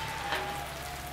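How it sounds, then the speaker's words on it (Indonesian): Continuous soft crackling and hissing of tofu frying in hot oil, a dense even sizzle with no voices. "Dan goreng tahunya terlebih dahulu."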